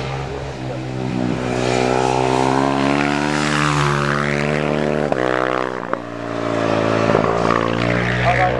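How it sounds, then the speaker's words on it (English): A Frilio racing car roars past at a speed event, its loud engine note rising and falling with gear changes as it passes close by, the harmonic whine sweeping through several shifts. "Pete LePage now, the Frilio sounds lovely."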